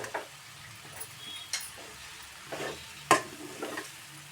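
Sweet potato sabzi is stir-fried in a pan, a quiet sizzle under several separate scraping strokes of a spatula and one sharp knock against the pan.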